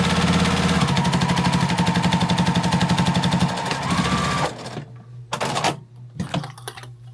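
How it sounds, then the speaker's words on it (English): A sewing machine runs a fabric seam on a patriotic fabric flag, a loud, rapid, steady needle chatter with motor hum for about four seconds, then stopping, followed by a few scattered handling clicks and thumps close by. "we're going to sew down this seam"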